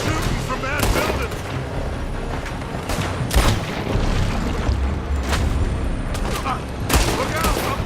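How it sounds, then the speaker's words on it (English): Gunfire in the video game Red Dead Redemption 2, sustained volleys of shots with several sharp, loud cracks standing out over a constant noisy din of battle. "They're shooting from that building!"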